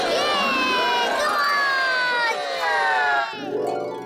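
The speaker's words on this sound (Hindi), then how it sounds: "मेरा मतलब तालियां।" A cartoon crowd of children shouts and cheers excitedly, with many high voices overlapping in a loud, sustained din. It trails off near the end into a short tonal sound.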